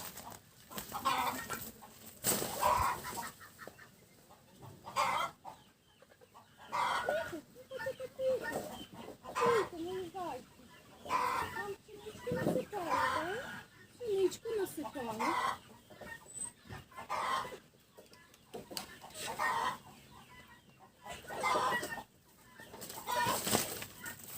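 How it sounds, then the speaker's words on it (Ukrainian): Chicks and chickens cluck and peep in busy, repeated bursts while drinking water from a drinker in a backyard, close by, with a person talking at times. "Курчатка задоволені, п'ють водичку, дивіться."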